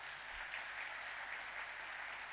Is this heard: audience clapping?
yes